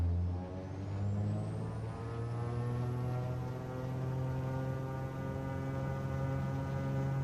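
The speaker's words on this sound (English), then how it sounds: "So, brakes off, full throttle, away we go." Twin-engine Beechcraft Baron in Microsoft Flight Simulator running at full throttle for takeoff, a steady loud drone with a slowly rising whine and no talking.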